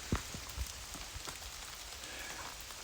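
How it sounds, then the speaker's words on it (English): Steady rain falls on a campsite outdoors in Vermont, a dense continuous patter with a few louder close drops at the start, no voices. "we're getting rained on"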